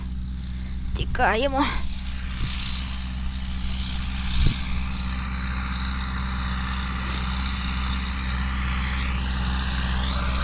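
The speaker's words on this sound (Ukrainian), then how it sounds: "трактор їде." A tractor drives across a field while winter peas are sown no-till. It makes a steady, droning engine hum throughout, with people talking nearby over the running engine.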